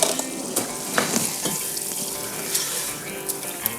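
Garlic and onions fry in melted fat in a pot for cream of mushroom soup, a close steady sizzle broken by a few scraping stirs and utensil knocks, with no voices.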